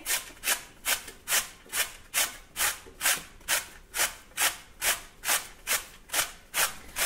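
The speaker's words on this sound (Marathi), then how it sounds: "इथे किसणीवर आता आपल्याला हे रताळं किसून घ्यायचे आहे" A peeled sweet potato scraped back and forth over a hand grater in a kitchen, about fourteen steady rasping strokes in an even rhythm, close and crisp.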